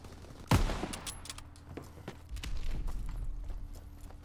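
A sharp close gunshot from Call of Duty: World War 2 multiplayer opens, followed by scattered quieter shots, footsteps and rumbling battle noise in the background.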